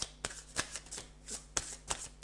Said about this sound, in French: Alors, je vais tirer une dernière carte.